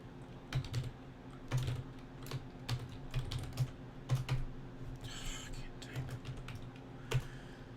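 Computer keyboard typing in clustered bursts of sharp clicks, fairly close, with a steady low hum underneath and a brief hiss partway through.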